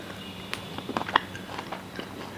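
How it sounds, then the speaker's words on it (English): Close chewing of smoked mac and cheese with a crunchy panko topping, soft moist mastication broken by several sharp crunchy bites, one louder crunch standing out midway, with no talking. "Let me finish chewing."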